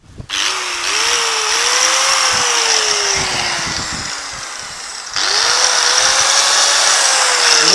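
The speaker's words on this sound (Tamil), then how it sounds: "இப்போ அந்த நட்டை கழட்டிட்டு நம்ம பிளேடை போட்டு இப்போ ரன் பண்ணி பார்ப்போம்" A restored power tool with a blade fitted spins up with a loud, close whine that holds steady, slowly dips, then is revved up again, its high motor tone buzzing over a rattling hum.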